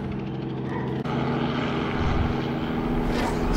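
A helicopter drones overhead at 7 a.m. with a steady thrumming rotor and engine roar that grows slightly louder, after a brief click near the start.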